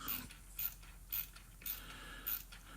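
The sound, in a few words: ratcheting screwdriver driving screws into wood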